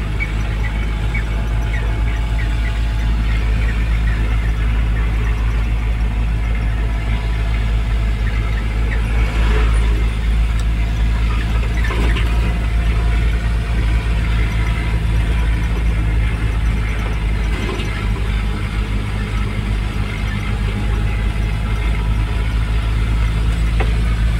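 A truck loaded with boxes of electrical wire labours uphill, its engine giving a steady, heavy, continuous drone with deep low rumble throughout, close and loud, without talk.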